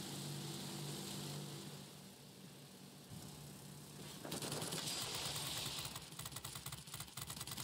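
A Zero fighter plane in a flight combat video game drones in with a steady propeller engine, then a harsher rapid rattling burst of gunfire takes over partway through, fairly loud and close.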